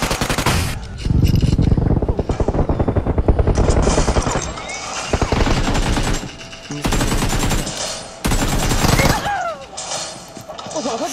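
Automatic weapon fire in a video game rattles in long, loud bursts broken by short gaps, with players talking intermittently over the shooting.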